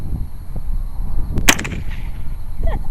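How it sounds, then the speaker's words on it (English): One booming shot from a .50 caliber rifle on an outdoor shooting range rings out alone midway through, with a quick reverberant decay over low background rumble. "All right, Benny, 50 caliber, downrange, do it"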